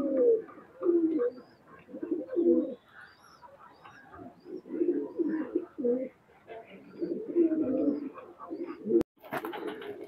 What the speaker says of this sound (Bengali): কবুতরটা ছাড়া হলো, কামাগার রানিং মায়া কবুতর।